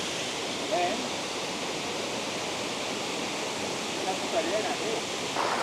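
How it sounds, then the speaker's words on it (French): Steady broadband rush of water at the foot of a waterfall in the Ordesa valley, constant and enveloping throughout with no clear breaks. "On sent la fraîcheur là en bas de la cascade d'ailleurs."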